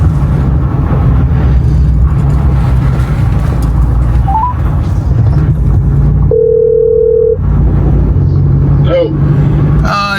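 Phone ringback tone as a call is placed from a vehicle amid Hurricane Helene cleanup, a steady electronic tone lasting about a second over continuous road and engine rumble.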